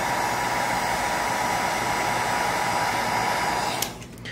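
A heat gun warming a sticker on a Primal RC Grave Digger monster truck gives a steady, loud, close airy whoosh that cuts off near the end, leaving quiet handling noise.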